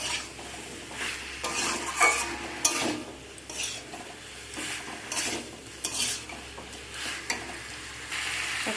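Broccoli and potatoes stir-fried with spices in a pan, a steady sizzle broken by repeated scraping and stirring strokes of a utensil, close and fairly loud, with no voices.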